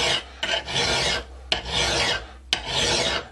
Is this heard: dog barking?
no